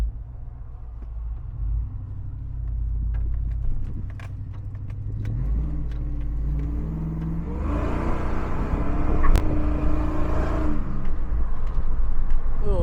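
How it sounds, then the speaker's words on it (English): A Whipple-supercharged LQ-powered Tahoe with a 4L80E transmission idles, then accelerates hard, its engine rising in pitch through the gears with a brief tire chirp in second, heard from inside the cabin with faint jingling. "Little second gear chirp right there."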